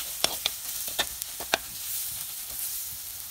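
Tomato masala for a Kerala-style prawn curry sizzles quietly in a pan, with a handful of sharp clicks from stirring early on over a soft continuous hiss.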